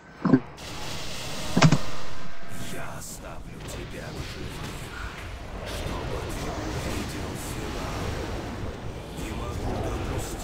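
A trap explodes during a raid boss fight in World of Warcraft's Icecrown Citadel, a sharp burst near the start followed by a second loud blast, then crackling game noise and chatter.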